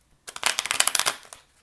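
A brief rapid riffle of tarot cards being shuffled, a quick run of crisp flutters lasting about a second, close and fairly quiet.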